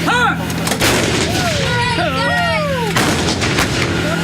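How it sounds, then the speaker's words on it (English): Army howitzers firing, with two heavy blasts about two seconds apart, each a sharp loud boom followed by rumbling echo and whistling tones in between. "These women are firing howitzers."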